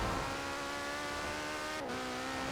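A Porsche engine in Forza Horizon 4 holds a steady, high-pitched whine near constant speed, with a brief dip and shift partway through, fairly quiet and alone.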